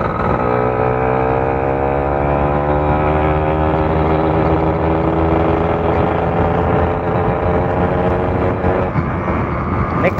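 A stock-engine Force motorcycle with a freshly tuned carburetor runs loud and close, its droning engine tone holding steady and then easing slightly lower in pitch over several seconds.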